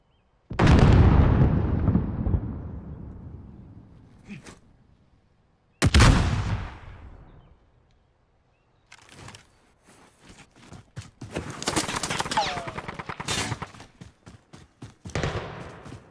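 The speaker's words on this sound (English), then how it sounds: "Do you see them shooting at me?" Video game gunfire and explosions: two big booming blasts with long decaying rumbles, then a stretch of rapid gunshots and bursts of fire, loud and close with no talking.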